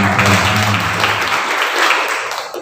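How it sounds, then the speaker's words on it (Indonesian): An audience at a regional community gathering in Kebumen gives lively applause, a thick burst of clapping that starts strong and gradually tapers off toward the end. "Kita berikan tepuk tangan yang meriah."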